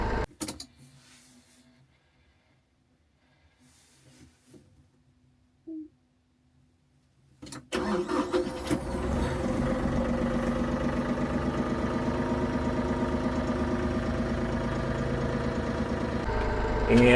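A Massey Ferguson 1M.40 compact tractor on a chilly morning: a few quiet clicks, then the engine cranks and catches around the midpoint, settling into a loud, steady, rumbling idle that runs to the end.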